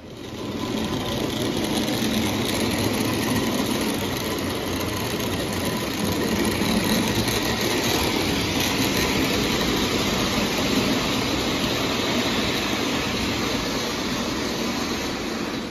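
An MPC era model steam locomotive with die-cast trucks runs steadily on a model railway, giving a continuous, even mechanical whir and rumble that holds at a constant level throughout without interruption.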